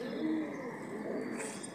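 Pigeons in a rooftop cage coo softly in a low, rolling murmur that continues steadily for a moment, heard faintly without talking.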